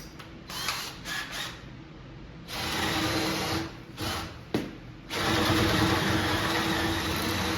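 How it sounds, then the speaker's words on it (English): Power drill with a worn bit boring through plywood, loud whirring bursts broken by short pauses, then a longer sustained drilling run at the end, with no talk. "This bit's a little worn out, so it might take a little bit to drill."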